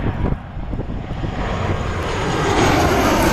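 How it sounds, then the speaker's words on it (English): Fixed-wing aircraft engine at Atlanta's Hartsfield airport on a gusty, windy day, a loud steady roar that swells and grows louder toward the end, heard alone with no talk. "We're just going to listen to the engine."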